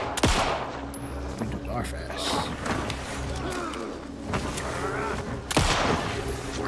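Rapid bursts of gunfire in the video game Alan Wake 2, loud cracking shots and rattling fire packed densely under a voice, with sharp reports near the start and end.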